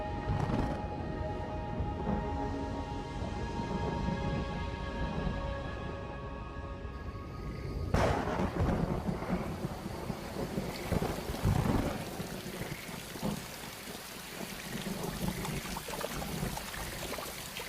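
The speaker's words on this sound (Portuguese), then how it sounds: "A chuva já estava caindo nas montanhas ao redor e agora chega ao Pantanal propriamente dito." Rain arriving over the Pantanal wetland, a steady loud wash of rainfall with a low rumble of thunder, a tonal hum fading out midway, and a sharp crack around the middle before the downpour continues alone.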